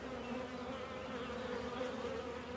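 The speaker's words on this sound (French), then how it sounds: "les abeilles sont bien autour." Honeybees buzz around a beehive where a queen is being introduced, a continuous soft drone of many wings at moderate distance, steady and alone without talk.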